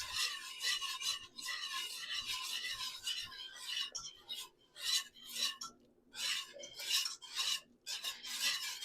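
Corn stirred into a pot of thick Southern-style creamed corn, giving repeated close scraping and rasping strokes in uneven bursts, with brief pauses between stirs.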